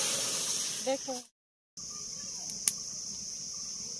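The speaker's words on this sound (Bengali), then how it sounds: "কড়াইয়ের মধ্যে জল দিয়ে দিচ্ছি।" Water poured into a hot wok while steaming baby corn gives a steady, sizzling steam hiss that cuts out briefly, then resumes. A voice speaks briefly near the start.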